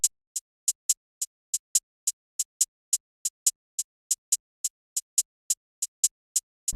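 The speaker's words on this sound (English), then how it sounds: "we started off with drill hi-hat pattern that sounds like this" Crisp electronic drill hi-hat ticks play alone in a steady, skipping pattern with occasional quick doubles, bright and dry against silence.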